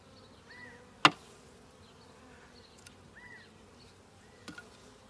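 Honeybees in a package beehive buzz faintly around the hive after it has been tapped during an inspection, with a sharp knock and a few soft clicks over the low drone.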